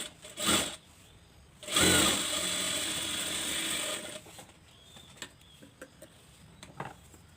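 A sewing machine stitches blouse fabric in two short rattling bursts, one brief and one lasting about two seconds, followed by quieter scattered mechanical clicks and handling sounds.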